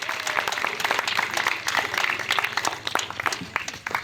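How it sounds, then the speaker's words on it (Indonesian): Audience clapping at a church dance, foti and gong-playing competition, a steady scattered patter of hands filling the space at moderate level throughout. "Kita tepuk tangan untuk kita semua."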